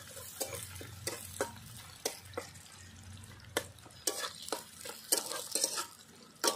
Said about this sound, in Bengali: পেঁয়াজটা একটু লাল করে ভেজে নেব প্রথমে।